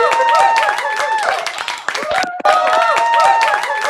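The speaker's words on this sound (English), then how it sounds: "Round of applause." Applause and clapping with cheering voices from a crowd, loud and dense, continuing for several seconds with one short break partway through.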